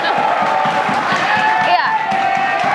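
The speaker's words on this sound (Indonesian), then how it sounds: "Tepuk tangan dulu." Studio audience at a tvOne televised Indonesian vice-presidential debate broadcast claps and cheers in a steady, loud crowd roar, with a voice talking over it.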